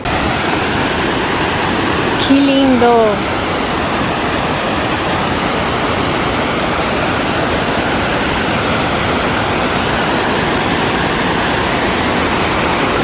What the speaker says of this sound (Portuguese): claro que quando chove aumenta, né, a queda d'água. Fica bem maior a queda d'água.